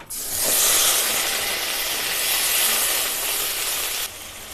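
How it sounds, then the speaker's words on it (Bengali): Onion paste hits hot oil in which bay leaves, dried chilies, cardamom, cinnamon and cumin have been fried for tel koi, setting off a loud, continuous sizzle that holds for about four seconds before easing, with no voices. "জিরেটা ভাজা হয়ে গেছে, এবার দিয়ে দেবো পেঁয়াজ বাটা।"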